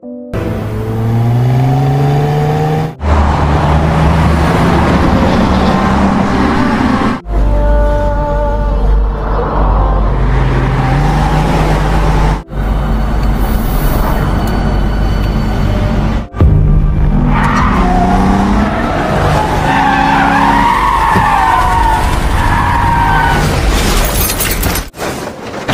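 A car crash effect unfolds in several loud, abrupt sections of skidding, tire squeal, rumbling impact and shattering debris, with sharp cuts between them and no voices.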